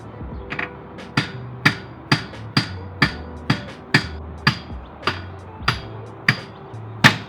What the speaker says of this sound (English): hammer out the axle from your hub